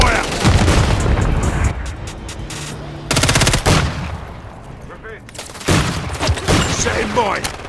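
Gunfire in a Call of Duty video game: dense bursts of automatic weapon fire and booming shots in rapid clusters with brief lulls, loud and close, mixed with in-game voice radio chatter.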